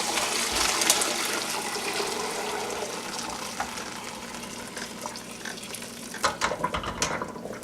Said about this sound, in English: I just sit the strainer inside like this. And then simply pour it